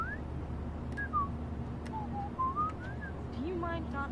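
A Life Is Strange game character whistles a wandering melody alone, the tune rising and falling in clear gliding notes over a steady low background hum, ending in a few quick repeated chirps.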